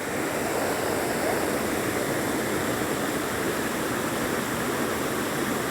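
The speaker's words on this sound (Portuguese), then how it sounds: "E a cachoeira." A waterfall in the Chapada region near Pires Ferreira, Brazil, gives a constant, full roar of falling water, loud and unbroken throughout.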